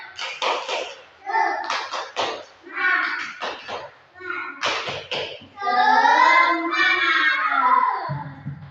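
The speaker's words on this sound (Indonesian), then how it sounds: "Tepuk semangat." A group chants in unison and claps in rhythmic bursts during a classroom session in Indonesia, the clap patterns mixed with voices and close by.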